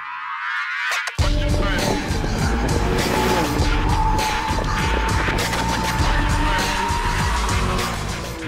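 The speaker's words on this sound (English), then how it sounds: "The road and tire noise are loud, the ride is firm, but this is all done because it makes the car drive better." A 2015 BMW M3 driven hard, with loud, constant road and tire roar and engine drone that bursts in after a brief quiet start, plus squealing tires through corners.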